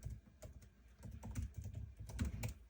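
Keystrokes clatter on a computer keyboard in a quick, uneven run of clicks, close and moderately loud, as a message is typed into a chatbot builder with no voices present.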